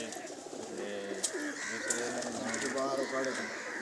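Pigeons in a rooftop loft coo in soft layered calls against a constant hiss of background noise, with people talking nearby.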